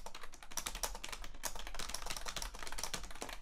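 Fingers type rapidly on a computer keyboard with dense, uneven clicking. The keystrokes are close and fairly quiet over faint room noise, and nobody speaks.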